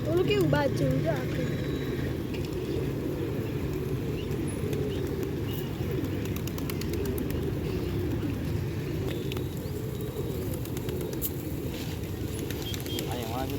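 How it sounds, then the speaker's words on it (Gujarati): A flock of pigeons coos steadily in a low, continuous murmur at Rajkot Race Course ground in the morning, with faint chirps and distant voices mixed in. "કેટલા બધા કબૂતર"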